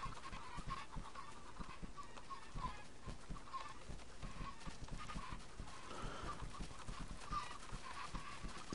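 A large flock of Minecraft chickens clucks constantly, overlapping short clucks and squawks piling up in a dense, busy chorus at moderate loudness with no voices.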